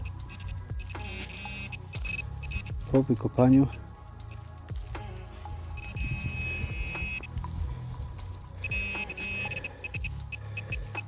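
A metal detector gives repeated electronic tones and beeps during a field search for buried relics, with someone talking over the signals and a brief louder warble partway through.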